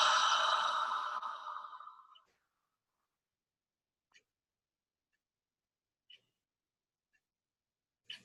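A single deep breath blown out audibly with a long breathy H sound during a guided breathing exercise, loud and close, fading after about two seconds into near silence broken by a few faint clicks.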